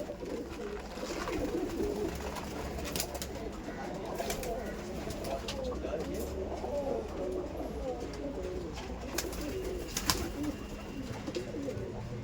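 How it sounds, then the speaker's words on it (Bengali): Giribaz pigeons cooing inside a loft, soft repeated low coos layered over each other with some wing flutters and faint background noise, no speech. "খুব সুন্দর গিরিবাজ পায়রা আপনার সামনে আজকে দেখাবো।"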